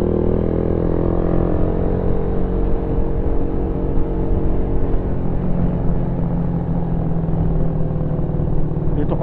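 Steady rumble of road traffic heard from aboard a moving Raider 150 motorcycle, a dense continuous engine and tyre drone with low idling vehicle noise around, no voices.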